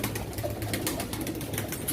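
Pigeons at a pigeon auction in Çorum, soft low cooing heard close up over a steady background murmur, brief and fairly quiet.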